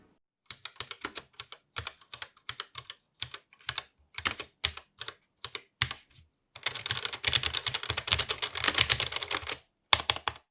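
Mechanical keyboard typing on a ZX Spectrum Next fitted with Gateron switches and DSA-profile keycaps: sparse individual keystrokes at first, then a dense, rapid burst of clacking, close and clear with no talking.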